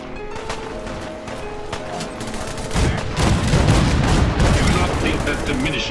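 Cannon fire during a scavenger boarding fight in the game Fallout 4, a volley of sharp blasts and booming impacts that grows denser and louder midway, with gunfire and game voices mixed in.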